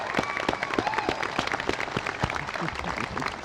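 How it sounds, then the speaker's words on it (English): Audience applause at an outdoor 2011 Civil War soldier monument rededication, a scattered crowd clapping steadily and moderately loud for several seconds. "let's give Lee a round of applause."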